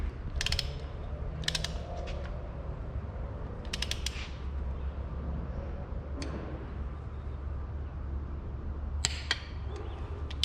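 A torque wrench ratchets in short bursts of quick clicks while tightening bolts on a BMW M52 alloy engine block, several separate clusters close by over a low steady hum.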